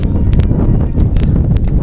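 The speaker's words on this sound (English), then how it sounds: "It's a little windy here." Wind gusts buffet the microphone at an outdoor football game in San Bernardino, a loud, continuous low rumble with a few brief crackles, no talk over it.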